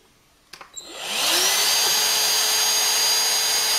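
A Dyson vacuum cleaner switches on after a couple of clicks, its motor whining up to speed within a second and then running steadily with a loud, high hiss.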